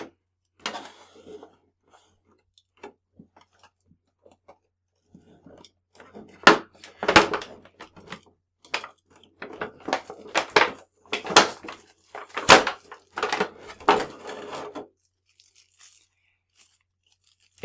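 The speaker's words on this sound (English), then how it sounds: "Let me get some cutters here. We need to cut a little bit of tape" Cutters slice through packaging tape on a cardboard box holding a figure, giving irregular sharp crunching snips and rustles in clustered bursts separated by near-silence, close and clear.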